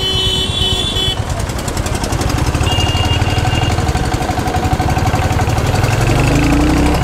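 A Royal Enfield Hunter 350 motorcycle engine runs steadily at about 40 km/h, a loud, continuous throbbing drone with no talking.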